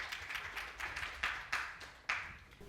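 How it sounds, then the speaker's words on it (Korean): Sparse applause welcoming a professor to the podium at a railway technology seminar, a handful of distinct, fairly faint claps spaced out over a few seconds with no talk. "한국교통대학교 서지구 교수님을 힘찬 박수로 모시겠습니다."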